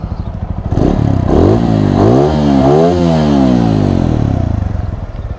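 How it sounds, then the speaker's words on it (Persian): A TVS Apache 200 motorcycle engine revs loudly and close, its pitch climbing and dropping through several quick throttle blips before settling to a steady roar. "خب یه گاز بده"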